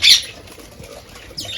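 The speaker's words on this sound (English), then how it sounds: "And this is the aviary. We've got some lovely birds in there." Birds in a garden aviary at a French longère, with a loud burst of wings flapping at the start, then quieter rustling and a second flutter near the end.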